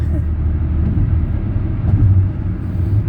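Steady low road rumble of a car driving through downtown Chicago at night, continuous and close, with a constant engine and tyre drone and no clear talk.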